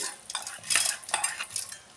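Fried lentils and dal being scraped from a pan into a mixer jar with a spoon, giving close, quick metallic scrapes and clinks in short bursts over about two seconds, with no talking.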